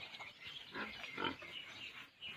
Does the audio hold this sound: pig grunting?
yes